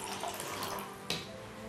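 Clean cold water runs into a cup for mixing casting plaster, a steady close splashing flow with a brief louder splash near the end.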